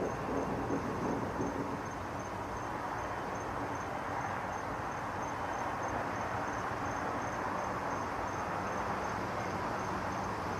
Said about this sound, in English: the loudest noise in the video is sounds of crickets